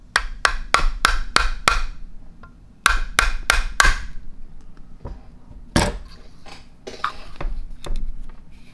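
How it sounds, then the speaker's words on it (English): A soft-faced hammer taps the muzzle of a Ruger Mark III .22 LR pistol in quick close runs of sharp knocks, one set of six and another of four, followed by a few scattered louder clunks. "we're going to give a little love tap with our soft-faced hammer, and see if you can see it as I gently tap the muzzle."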